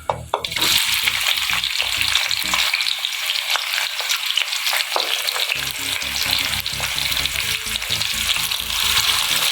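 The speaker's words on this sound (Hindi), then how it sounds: "इसमें हम प्याज शामिल कर रहे हैं।" Onions go into a pan of roasted dry spices for a Punjabi kadhi pakora dish, setting off a loud, continuous sizzle and fry with scraping stirs throughout.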